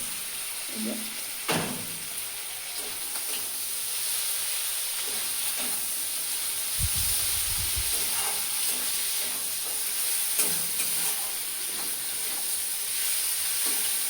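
Prawns frying in a pan give a steady, close sizzle and hiss throughout, with occasional stirring clatter and a brief low rumble partway.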